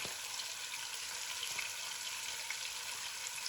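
Onions fry in a pan with salt and chili as tomatoes are added, giving a steady, moderately quiet sizzle and hiss without pause or voices.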